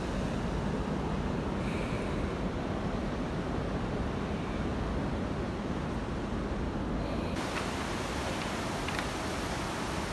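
A mountain waterfall on the Govindghat to Ghangaria trek, on the Hemkund Sahib pilgrimage route, gives a steady, loud, close rushing roar of falling water that fills the whole clip without a break.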